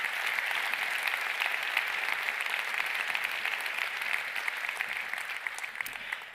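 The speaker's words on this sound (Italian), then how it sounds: "un applauso anche a loro" A hall audience at the Premio Terzani 2023 award ceremony applauds steadily and warmly, a dense, even wash of many hands clapping that holds for the whole stretch without a break.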